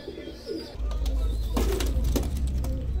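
Chuha pigeons coo in low, throaty bursts over a steady low rumble, close by, with a few brief clicks and rustles.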